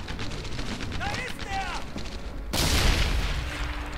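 A frag grenade detonates in the World War II shooter Medal of Honor: Airborne, a sudden loud broadband blast cutting through steady battlefield gunfire and noise, with voices heard briefly before the explosion.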